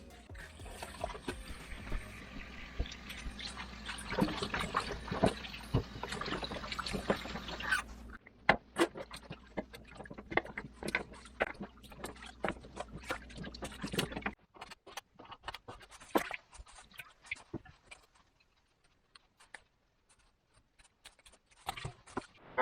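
Raw chicken feet rinsed under a running kitchen tap, a steady stream of water for the first several seconds, then wet clicks, drips and handling sounds as the feet are turned and moved.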